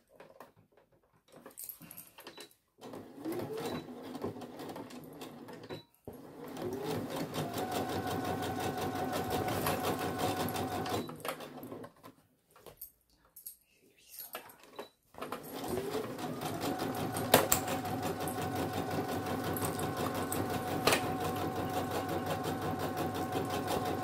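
A sewing machine stitches a weekend bag in bursts, steady mechanical whirring runs of several seconds separated by short pauses, close and fairly quiet, with no talking.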